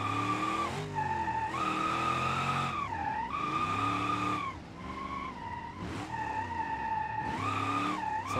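Sustained tire squeal from a car drifting in the BeamNG driving game, played on a MOZA R21 direct-drive wheel, loud and continuous with a rising and falling pitch as the slides shift, alongside engine drone and no talking.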